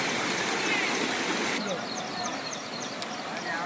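Strong floodwater rushing after torrential monsoon rain in flooded farm fields, a continuous broadband roar that stays loud and steady throughout, with a speaker's voice talking over it.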